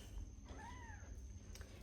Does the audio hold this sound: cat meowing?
yes